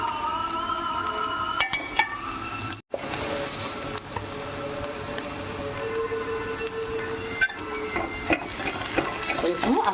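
Okra fry being stirred with chili powder in a pan on the stove, a steady clatter and scrape of the spatula over a continuous sizzle, with a brief dropout partway through.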